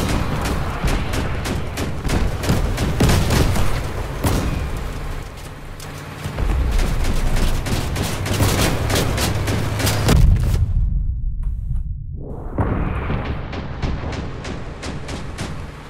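Mounted vehicle guns fire from a Mad Max-style war rig fan build in Crossout, rapid, loud, repeated shots in continuous volleys, with a brief lull near the end before firing resumes.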